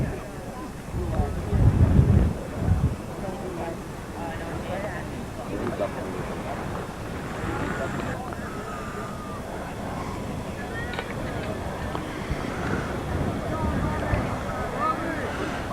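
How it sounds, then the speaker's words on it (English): Steady buffeting south wind rushes across the microphone throughout at a track meet, with a louder gust early on and faint voices mixed beneath the roar. "windy, very, very windy south wind today"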